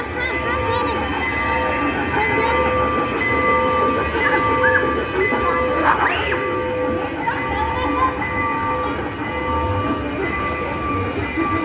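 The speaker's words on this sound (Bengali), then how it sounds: "ওই যে ট্রেন চলতেছে" Small ride-on train runs at a village fair in America, a continuous rumbling clatter with faint tonal squeals, heard amid crowd noise and children's voices.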